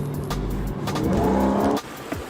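Mustang V8 engine with a Corsa exhaust rumbling and revving up loudly nearby for about two seconds, then cutting off sharply, with a faint tire or road noise after.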